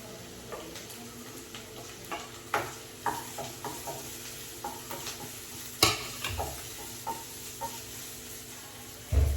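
Grated coconut stirred into hot oil with onion and green chilli in a pan, making a soft sizzle with repeated scraping strokes at a steady rhythm. It sounds close and moderate, with no talking.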